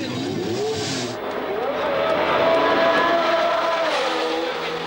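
A Formula 1 race car engine wails at high pitch, its tone sweeping up and down as it passes, with tire squeal over a dense, loud roar and no voices.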